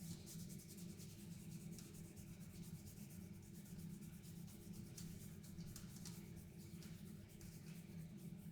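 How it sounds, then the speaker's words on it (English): Steady soft rubbing of tool grit into a turned wooden apple, a continuous close, faint abrasive scrubbing texture with no talk. "I'm going to rub this tool grit in"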